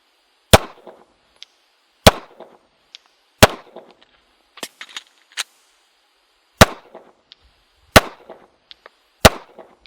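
Gunshots fired at targets during a shooting drill, six or seven sharp, loud cracks spaced one to two seconds apart, each trailed by a brief echo, with a few fainter pops between them.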